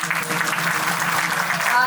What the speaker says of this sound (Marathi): गाण्यासाठी जोरदार टाळ्या वाजवा